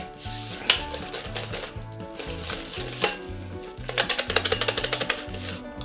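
Cream cheese and butter being beaten by hand with a whisk in a bowl for carrot cake frosting, a quick run of rhythmic clicking strokes rising over steady background music.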